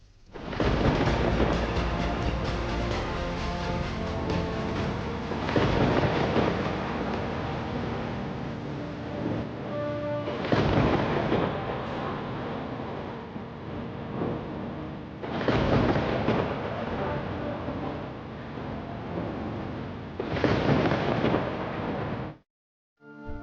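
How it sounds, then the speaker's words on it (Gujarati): Steady roar of heavy rain and strong wind in Valsad district, Gujarat, broken every few seconds by loud, close rumbling thunder bursts, with no voices. "ભારે પવન અને ગાજવીજ સાથે વરસાદ વરસ્યો"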